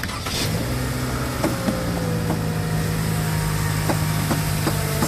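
A 2015 Toyota Camry XSE started with its push-button start, its engine settling into a steady, close idle hum with faint clicks and ticks over it.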